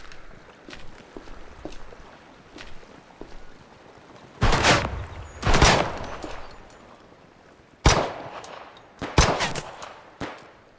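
Enemy gunfire rattles out in the video game Project Silverfish: several loud, close bursts of rapid shots at intervals over quieter background ambience, with no speech.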